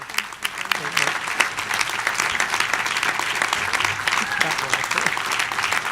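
Applause fills the hall at a Middlesex University honorary degree ceremony for actress Rebecca Front, a dense, even roar of many hands clapping that carries steadily for several seconds.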